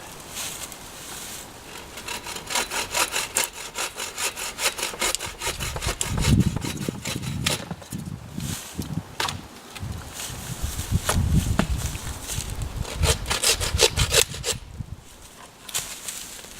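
A hand saw cuts through a wooden branch with steady back-and-forth rasping strokes, close and moderately loud, with a few pauses and shifts in rhythm and no talking.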